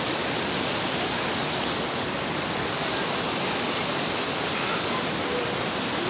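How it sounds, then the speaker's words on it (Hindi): Canal water rushing at a hill station in Murree, a dense, steady, loud broadband roar of flowing water that stays unchanged throughout with no voices heard. "ये नहर कितनी अच्छी लग रही आपकी"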